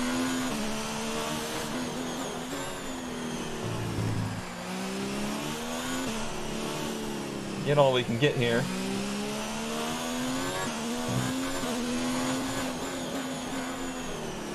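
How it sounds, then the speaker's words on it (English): Formula 1 cars from the F1 2019 racing game scream around the Brazil circuit, a continuous high-revving engine whine shifting up and down in pitch with a short burst near the middle, while a player talks over it. "I can hear them. I can hear their cars"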